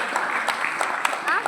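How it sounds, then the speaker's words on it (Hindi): Audience applause for a young girl's performance at an Independence Day event, dense rapid clapping from a crowd, steady and fairly close, with a voice speaking over it. "तालियां बजाइए उस छोटी सी बहन के लिए"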